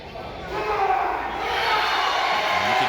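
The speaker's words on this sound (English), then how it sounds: "you can hear this crowd roaring in support" A wrestling crowd roars in support at a live match, a broad wash of noise that swells steadily under a commentator's voice.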